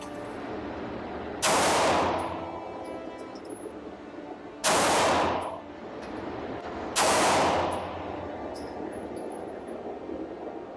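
Three pistol shots from a Stealth Arms Platypus or Bul Armory SAS II Tac 4.25, each a sharp loud crack with a short echoing tail, spaced a few seconds apart over steady outdoor background noise.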